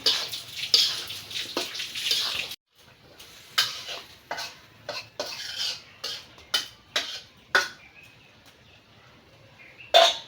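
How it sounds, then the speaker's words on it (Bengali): Water poured into vegetables cooking in a pot in a village kitchen makes a close, hissing splash for a couple of seconds, followed by a run of short scraping stirs at a steady pace. "সবজি তো কষাইতেই জল উঠে গেছে গা হালকা পরিমাণ একটু জল দিয়ে দিই"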